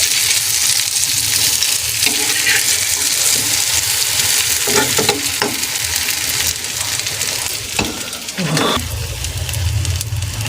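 Eggplant slices sizzle steadily in hot oil in a frying pan over medium heat, a loud continuous crackle with a few brief scrapes and clatters as pieces are turned one by one; no one speaks.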